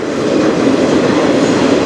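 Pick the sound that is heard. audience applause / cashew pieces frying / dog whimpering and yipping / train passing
train passing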